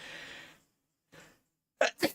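A short burst of noise, then a pause, then a sharp two-part sneeze up close.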